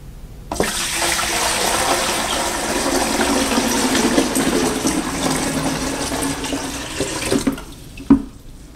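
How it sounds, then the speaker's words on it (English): Water pours steadily into the back reservoir of a groundwater model in a continuous rushing stream for several seconds, close and fairly loud, then stops, followed by a brief thud. "you want to pour the water into this back reservoir"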